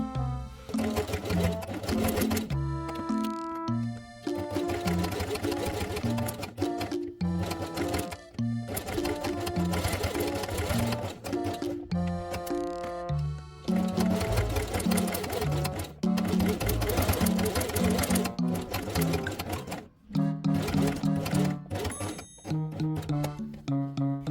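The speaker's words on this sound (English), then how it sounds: "Sew both pieces together along the inside edge using yellow thread." A sewing machine stitches two fabric pieces of a Christmas quiet book page together with yellow thread, running in rapid mechanical bursts separated by short pauses, close and clear with no voices.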